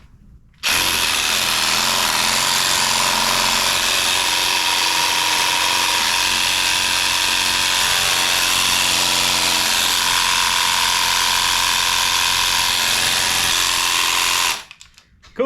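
A one-handed cordless power tool runs continuously for about fourteen seconds during rust repair work, a loud, close, buzzing whine with a slight shift in pitch partway through, starting and stopping abruptly, with no talking.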